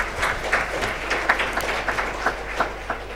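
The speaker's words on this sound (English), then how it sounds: "The interpreters wish to thank the audience for a round of applause." A seminar audience gives a modest round of applause, individual claps audible as a fairly sparse, uneven patter at moderate distance, with a low steady hum beneath.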